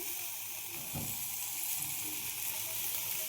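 Beans (shim) tipped into a frying pan of hot mustard oil, a steady loud sizzle and hiss with a soft thump of them landing near the start, continuous throughout.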